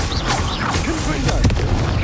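Booming blast from the Confringo fire spell in Hogwarts Legacy, a loud burst with crackling debris over dense game combat noise and voices.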